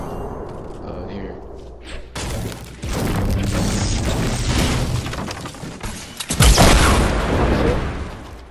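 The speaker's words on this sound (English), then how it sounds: "did you just shoot that rocket?" A rocket blast goes off in the video game Fortnite, with heavy booms and thuds crashing loud and near amid chaotic gameplay noise while players talk over it.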